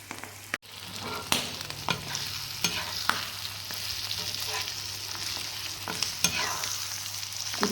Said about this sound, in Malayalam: അടച്ച് വെച്ച് പൊരിക്കാൻ പോവാണ്.